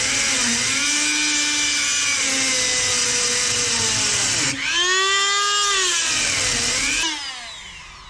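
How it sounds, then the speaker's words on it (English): A Dremel rotary tool with a cutting disc grinds into a hard metal hood pin, a loud continuous high-pitched whine that dips in pitch as the disc bites, rises again, then tapers off near the end; no talking. "I'm gonna go ahead and take the Dremel and get to cutting on it"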